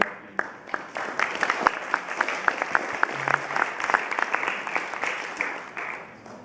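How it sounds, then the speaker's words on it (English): An audience applauds after a talk on online mapping, many hands clapping in a lively, uneven patter with distinct sharp claps standing out, close and fairly loud, slowly thinning toward the end. "Give everyone a round of applause for the last."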